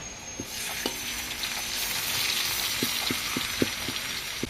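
Oil stir-frying in a pan while making Thai sago dumplings with pork filling, a continuous close sizzle broken by a series of sharp taps and scrapes of a spatula, with no talking.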